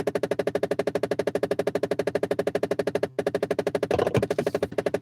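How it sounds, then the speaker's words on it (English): A car with a failing sensor making fast, regular clicking, loud and close, continuing for several seconds with a brief drop-out partway and a short extra rustle near the end. "Sorry about the clicking noise."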